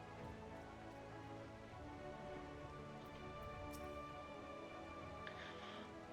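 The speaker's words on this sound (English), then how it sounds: "It's raining!" Rain in a fantasy role-playing video game, a faint, steady hiss of falling rain with soft drop patter running continuously, with no talk.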